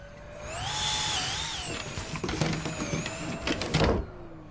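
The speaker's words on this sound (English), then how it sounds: "Now let's check the Hoover again." A Hoover vacuum cleaner in the video game Her Majesty's Spiffing whirs with a rising and falling motor whine, running loudly for several seconds with clattering, mechanical noise in the latter half before cutting off.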